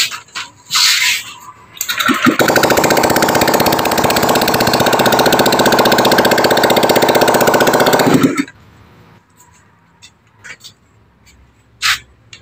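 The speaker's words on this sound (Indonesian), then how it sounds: "Ini motor sudah hidup dan nanti tinggal dirayan ya" A Honda Vario Techno 125 FI scooter engine, one that had run out of oil, starts up and holds a loud, steady running drone for about six seconds before cutting off, with quieter workshop clatter around it.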